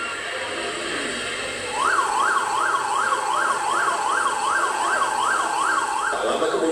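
A fire truck siren wails, rising and falling in a steady rapid cycle, loud and close, over a constant background rumble of traffic.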